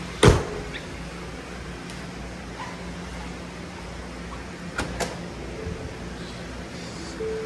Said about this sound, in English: So you got your power windows